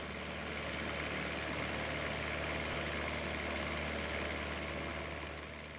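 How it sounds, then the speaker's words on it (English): A light aircraft engine holding a steady, broad droning roar as the throttle opens for takeoff, constant and continuous with no break, heard alone. "The pilot opens the throttle and the aeroplane accelerates."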